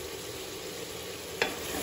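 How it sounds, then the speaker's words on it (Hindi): Mutton frying with spices in a pan: a steady, close sizzle with a brief scrape partway through, no voices. "तो मटन को थोड़ा सा इन मसालों के साथ भुनने देना है"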